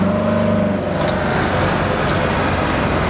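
A 1967 Opel Rekord's engine drones loud and close as the car accelerates through a turn, a steady low rumble running the whole time without any talk.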